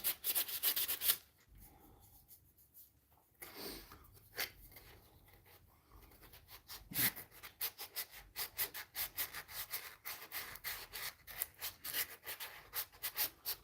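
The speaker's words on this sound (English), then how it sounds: "Back sanding spoons" Hand sanding of wooden spoons: repeated rubbing strokes of sandpaper on wood, a brief loud burst at the start, then a quieter lull and a steady run of short scratchy strokes in an uneven rhythm, close by with no talk.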